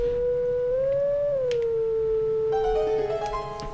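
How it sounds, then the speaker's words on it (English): Howling Stone in The Legend of Zelda: Twilight Princess gives off a sustained, wind-like howling tone that rises, wavers and settles. Brighter melodic notes join it in the last second, with no speech. "hold on, we have another Howling Stone"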